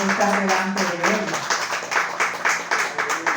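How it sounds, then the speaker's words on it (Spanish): Church congregation applauding during a Spanish-language service, a crowd clapping that starts under a voice and then continues as an even, moderately loud rhythmic patter. "Dios se merece un fuerte aplauso en esta mañana"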